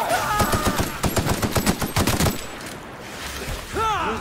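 Rapid bursts of automatic gunfire from The Outer Worlds video game rattle loud and close for about two and a half seconds, then drop into a quiet lull before a brief warbling effect.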